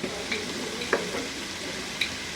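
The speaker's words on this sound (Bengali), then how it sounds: "এইটার সাথে একটু মিলায় ভেজে নিব হলুদের কাঁচা গন্ধটা চলে যাওয়া পর্যন্ত" Ground spices, turmeric, garam masala and chili powder, sizzle in oil for vegetable khichuri while a spoon stirs, giving a steady close fry with a few sharp scraping strokes and no voices.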